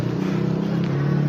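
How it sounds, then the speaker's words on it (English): Blower running during air conditioner cleaning, a loud steady motor whine with a constant hum and hiss, continuous and close, with no talk over it. "May blower na."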